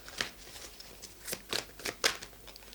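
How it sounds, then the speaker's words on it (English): Tarot cards are shuffled by hand in quiet, irregular bursts of crisp riffling and slapping, several distinct flurries close by with short pauses between them. "I'm just gonna shuffle to gain a clarifier"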